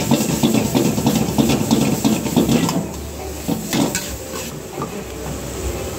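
Street noodles are stir-fried in a pan with soy sauce, vinegar and chili sauce, giving close, loud hissing and sizzling with rhythmic scraping and stirring that eases off partway through.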